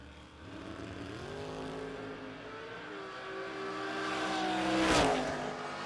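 A 1987 Ford Mustang drag race car at a drag strip event, engine revving and rising in pitch as it launches and pulls away, loud and building to a peak near the end with no speech over it.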